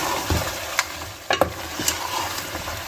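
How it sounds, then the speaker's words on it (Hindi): Spices with two teaspoons of salt mixed in a hot frying pan, giving a soft steady sizzle with a few distinct scraping strokes of the spoon, close and brief, no talking. "अच्छा जी अभी हम इसको अच्छे से मिक्स कर लेंगे।"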